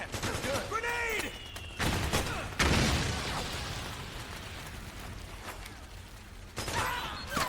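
Metal Gear Solid 4 combat: bursts of gunfire and a grenade blast crack through the mix, with a heavy explosion rolling out midway amid mechanical whirs and intermittent voices.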